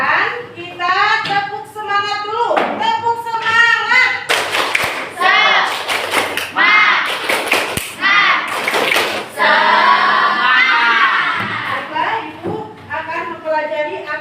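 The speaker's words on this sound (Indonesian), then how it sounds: "Sekarang sebelum mulai pembelajaran, kita tepuk semangat dulu." A third-grade classroom performs the rhythmic 'tepuk semangat' spirit clap, with children's voices chanting loudly between sharp, patterned bursts of group clapping that come in quick clusters.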